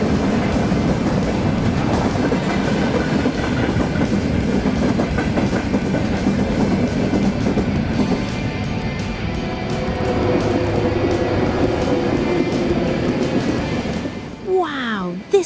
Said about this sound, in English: This is a special kind of train that runs in Germany. It's called a freight train.